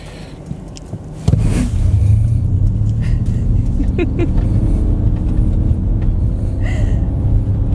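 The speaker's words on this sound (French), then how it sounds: "on va tester l'accélération, mais il n'y a pas de launch control" A 2021 Ford Mustang Mach-E GT Performance, an all-wheel-drive electric car, launches hard from a standstill: a steady loud rumble of road and cabin noise swells suddenly after a quiet start and holds to the end.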